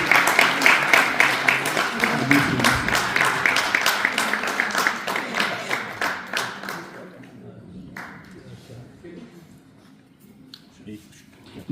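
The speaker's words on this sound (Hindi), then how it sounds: "हाजी सराज साहब के लिए बहुत सी तालियां" An audience at a community event claps for a guest in a rhythmic, fairly close burst that holds for about six seconds, then thins to scattered claps and fades, with a voice heard faintly near the end.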